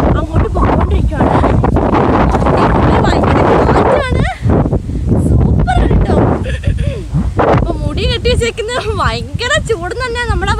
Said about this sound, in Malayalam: ഭയങ്കര കാറ്റ് കാരണം എൻ്റെ അടുത്ത് ഫോൺ പോലെ തെറിച്ചു പോകുന്ന പോലത്തെ കാറ്റാണ്